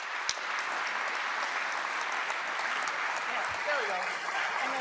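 Conference audience in a theater applauding its sponsors, a steady dense wash of clapping throughout, with a voice briefly speaking near the end.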